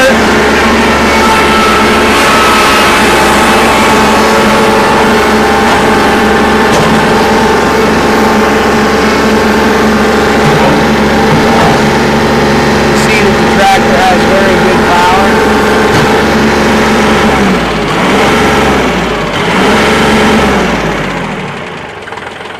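A 2023 Kubota L3902HST compact tractor engine idles steadily and loudly close by for the whole stretch, a constant mechanical drone with a slight dip near the end.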